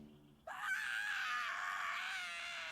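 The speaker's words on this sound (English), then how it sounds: "Could you not scream like that?" A character in the English dub of the anime Shangri-La Frontier lets out a sudden, sustained high-pitched scream that starts abruptly and holds loud for about two seconds.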